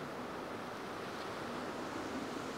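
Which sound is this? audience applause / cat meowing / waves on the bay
waves on the bay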